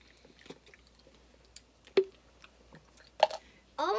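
Close, wet chewing of a dirty-dish-flavored Bean Boozled jelly bean, with scattered soft squishes and clicks, then a brief burst of voice at the end.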